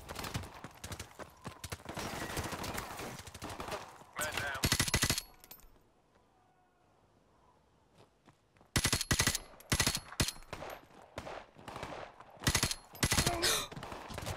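Bursts of automatic gunfire from a Call of Duty: Modern Warfare Remastered firefight, loud and dense at the start, dropping to a quiet lull, then returning in sharp, repeated volleys.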